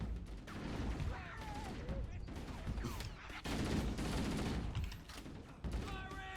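Enemy gunfire rattles through a Halo firefight, with bursts of rapid shots and sporadic cracks over a busy game soundscape, heard faintly and partly under a talking voice.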